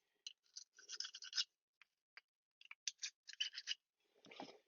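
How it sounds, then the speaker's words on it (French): A small brush scrubs a Smith & Wesson M&P40 2.0 pistol magazine's spring and follower in quick, close, faint bristly strokes, arriving in short bursts separated by brief pauses. "on va nettoyer comme il faut avec la brosse"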